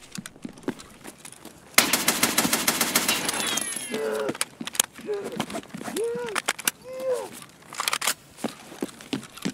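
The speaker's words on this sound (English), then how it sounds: "The gun shoots." Rapid automatic gunfire from a rifle in Escape from Tarkov, a dense loud burst of shots lasting about two seconds, followed by sparse clicks and handling noises while a voice talks over it.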